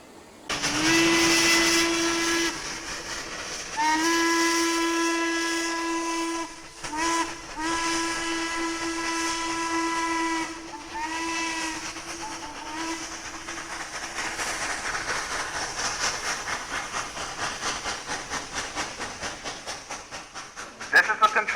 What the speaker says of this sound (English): The passenger train has just passed by.